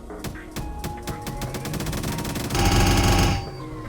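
A video game weapon's primary fire starts with spaced single shots that quickly speed up into a rapid, even stream of rounds at full rate, ending in a louder, denser burst, alone with no talk.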